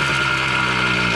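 A 1974 Yamaha MX100 motorcycle engine runs loud and close in a steady, even drone with a dense buzzing tone and no break.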